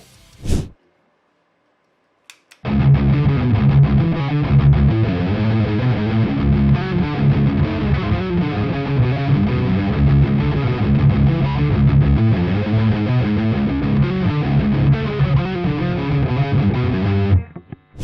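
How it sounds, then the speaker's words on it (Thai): After a short silence, an electric guitar through a distortion effects pedal plays continuously for about fifteen seconds, loud and gritty with thick overdriven tone. "เดี๋ยวเราจะไปลองฟังเส ียงเจ้าเอฟเฟกก้อนตัวนี้กันนะครับ"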